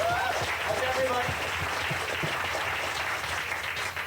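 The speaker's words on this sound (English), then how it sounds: "let's have a big round of hand for all the comics so far tonight" An audience at a stand-up comedy show applauding, a steady wash of clapping throughout with a voice speaking over it.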